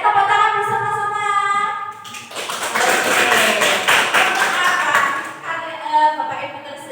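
A group of people claps hands together at a school session, a burst of dense clapping in the middle, framed by someone speaking before and after.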